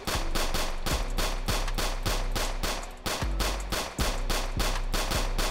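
Rapid, loud gunshots ring out in the Roblox game South Bronx Hood RP, a near-continuous string of sharp evenly spaced reports with a couple of short pauses.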